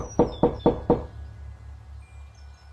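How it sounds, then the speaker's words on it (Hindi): Four quick, evenly spaced knocks land on a door late at night, then give way to a low ambient hum with faint high tones. "पृथ्वी जल्दी जल्दी काका के घर पहुंचा और दरवाजा खटखटाने लगा"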